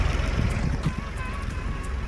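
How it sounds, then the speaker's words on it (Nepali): A tractor's steady, rumbling engine drones close by with constant low-frequency noise and wind buffeting throughout, no voices. "ट्र्याक्टरको नोइज एकदम खतरा"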